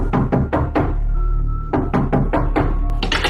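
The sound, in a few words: knocking on a door, horror story sound effect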